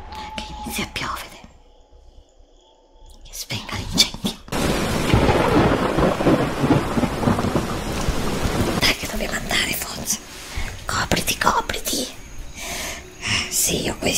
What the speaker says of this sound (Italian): Mamma mia, come piove, sta piovendo di rotto.